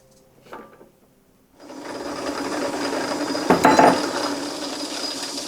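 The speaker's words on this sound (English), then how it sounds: "now I got to set my gearbox for 16 threads per inch" Lever and gear clicks of a South Bend lathe gearbox being set for 16 threads per inch, a few short knocks, then a steady close mechanical whir with a brief burst of ratcheting clatter partway through.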